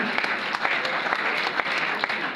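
An audience at a political gathering applauds a mayor (bourgmestre), dense continuous clapping filling the hall with occasional voices mixed in.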